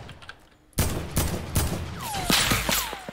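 Gunfire in a shooter game: a string of sharp, separate shots begins abruptly after a quiet opening and repeats irregularly, with a few whistling ricochet-like sweeps among them.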